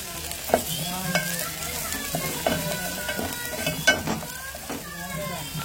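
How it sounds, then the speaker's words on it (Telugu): Ground masala of coriander, coconut, ginger and green chillies fries with green chillies as a spoon stirs it around the pan, producing a close, continuous sizzle. Repeated clinks and scrapes of the spoon rise above the frying throughout. "మసాలా వేసుకొని బాగా తిప్పుకున్నాం."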